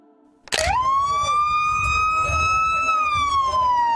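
A police siren on a Tennessee Highway Patrol escort starts abruptly and wails loudly at a steady high pitch, holding then slowly dropping, with road rumble beneath.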